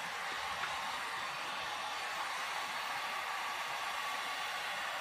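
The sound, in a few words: heat gun drying paint on a mirror frame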